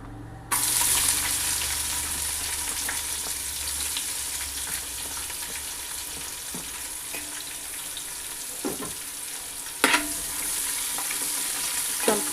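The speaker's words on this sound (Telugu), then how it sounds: "ఇలా ఎర్రగా వచ్చిన దాకా వేపుకోవాలండి ఉల్లిపాయలు" Sliced onions fry in a pan with a steady close sizzle for chicken dum biryani, broken by a few sharp clinks and scrapes of stirring.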